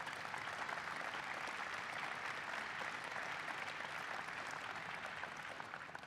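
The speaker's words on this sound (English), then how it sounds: "Please give them a big round of applause." Steady audience applause for a team of White House energy and climate staff at a public event, dense continuous clapping from a large crowd at even loudness throughout, with no voices standing out.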